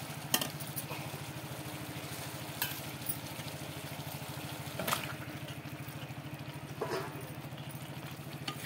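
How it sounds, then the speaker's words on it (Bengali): Marinated meat is stirred into a sizzling spice paste in a pan, a steady low frying hiss with occasional scraping clatters from the spoon against the pot. "এবারে দিয়ে দেবো ম্যারিনেট করে রাখা মাংসটা।"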